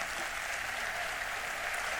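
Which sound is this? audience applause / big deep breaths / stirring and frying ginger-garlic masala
audience applause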